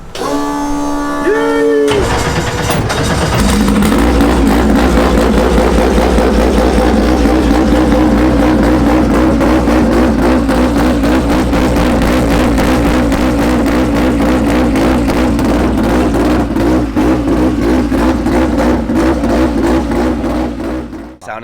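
Toyota JZX110 Mark II engine cranking and firing up, then idling loud and rough with a steady pulsing rumble that holds close for about twenty seconds.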